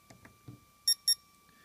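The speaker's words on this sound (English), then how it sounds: "LED will blink simultaneously twice with two beeps" A printer chirps two short, bright beeps in quick succession after its tear-off position setting is saved, preceded by a few soft low knocks from handling the machine.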